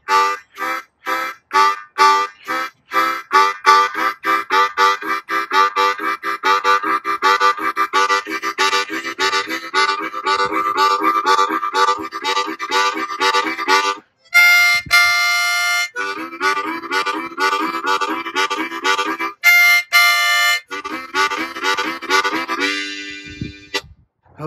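A harmonica plays a chugging train song, with rapid rhythmic breathy chords imitating a locomotive, loud and close, with brief pauses and a held wail near the middle before the chugging resumes.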